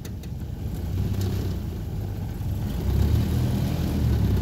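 A Land Rover Series II with a detonated layshaft drives in second gear, its engine and drivetrain giving a steady close rumble that swells slightly in loudness partway through.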